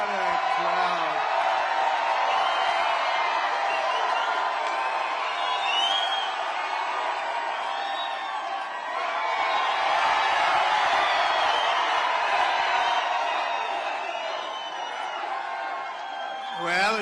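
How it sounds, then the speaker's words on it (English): Large rally crowd in New Hampshire roars and cheers continuously, loud and close, with whoops and shouts swelling and dipping over a dense wall of voices. "What a crowd. What a crowd."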